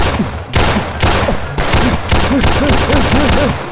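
AK rifle fire in a Roblox hood shooter game, with several loud, sharp bursts of rapid shots fired close by in quick succession and short gaps between them.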